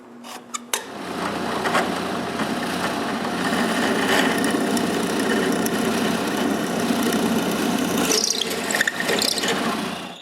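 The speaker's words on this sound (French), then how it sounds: "je peux aller sur la perceuse à colonne et percer le trou." A drill press boring a hole through a wooden bench press, its motor starting with a few clicks and then running in a steady, loud whir that shifts near the end, with no talk.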